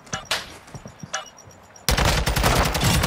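Video game gunfire: a few scattered single shots, then a dense, loud continuous burst of rapid automatic fire that runs to the end.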